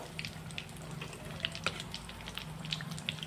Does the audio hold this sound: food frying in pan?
yes